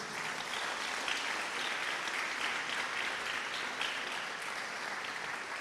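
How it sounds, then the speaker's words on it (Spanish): A church congregation applauds together at a Sunday service, with dense, steady clapping from many hands throughout, fairly close and without pause. "Da un aplauso al Señor por eso."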